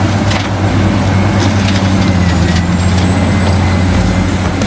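Toy forklift, fire truck and tanker truck running together, a steady loud motorized drone and hum with faint rattling, continuous and close throughout.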